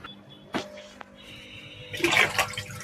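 Water drains through a hose while an aquarium tank is cleaned: faint trickling and a couple of sharp knocks, then a louder rushing gush near the end.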